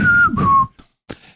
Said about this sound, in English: Data's having trouble whistling, and he's doing Pop Goes the Weasel, but doing it very badly